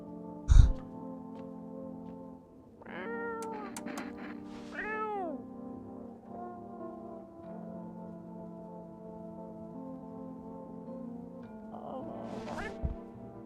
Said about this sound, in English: I love the cat noise.